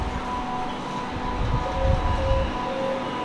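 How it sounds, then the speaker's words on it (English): Train station in Nanjing, China, with trains: a steady, loud low rumble and hum of rail traffic running throughout, with a few faint higher tones drifting over it. "I mean, it's a train station."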